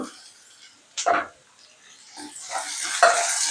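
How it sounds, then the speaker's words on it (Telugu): Tomato pieces dropped into hot tadka oil for Telugu-style dal, giving a brief burst of sizzling and stirring with a spoon, with soft clatter and faint background sounds around it. "ఇప్పుడు టమాటా ముక్కలు వేస్తున్నాను"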